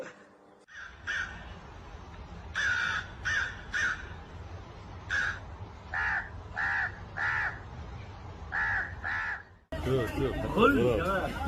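Crows caw repeatedly in short harsh bursts, some birds close and loud, over a steady background murmur; near the end the scene shifts to a denser, noisier stretch of overlapping calls and chatter.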